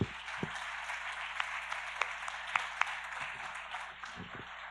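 A church congregation applauds during a worship service, a steady wash of clapping with a few sharper claps standing out, moderately distant and fairly even throughout.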